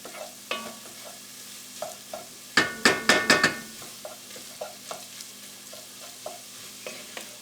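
A wooden spoon scrapes and stirs Hungarian paprika sautéing in a soup pot, with a low sizzle underneath, scattered knocks against the pot and a quick burst of rapid clanks midway.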